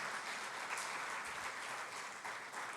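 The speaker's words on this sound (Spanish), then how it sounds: "Denle una ofrenda de palmas a nuestro Dios" A church congregation claps together in sustained, dense applause throughout, steady and fairly loud with no break.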